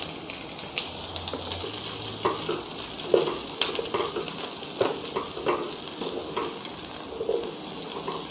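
Chopped capsicum frying in a pan for restaurant-style chilli chicken, with a steady close sizzle and irregular stirring scrapes and knocks throughout.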